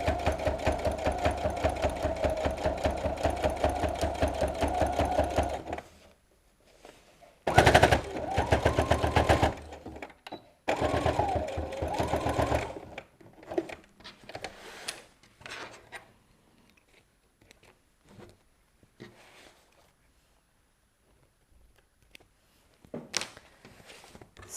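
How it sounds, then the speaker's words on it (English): A sewing machine stitching a fabric BBQ utensil roll, running in a fast steady buzz for several seconds, then in short stop-start bursts with quiet gaps between. "Just sew down here and we are done."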